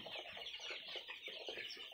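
Broiler chickens crowd a farm shed and cluck continuously, a dense, close chorus of overlapping clucks and calls with no voice heard.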